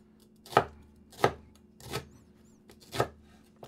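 A knife cuts slices on a cutting board while a plant-based McRib sandwich is prepared. Four sharp, evenly spaced chops ring out close and clear in a quiet kitchen, about two-thirds of a second apart.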